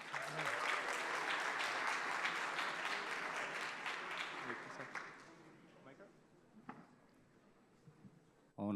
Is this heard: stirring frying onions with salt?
no